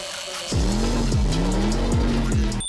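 An old 1980s Lego wind-up toy car starts up and runs with a loud, close, steady whirring drone. Its pitch rises and falls in repeated sweeps as the spring motor turns.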